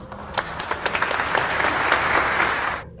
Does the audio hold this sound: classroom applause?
yes